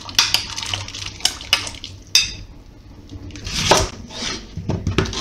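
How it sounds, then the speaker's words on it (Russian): Potato cooking water being poured off into a pot of pea soup with smoked ribs in a home kitchen, heard as splashing pours and clinks of pot and utensils, close and moderately loud, with short clatters between the pours. "Воду с картошки сливаем"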